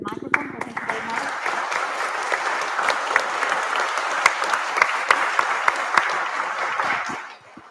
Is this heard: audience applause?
yes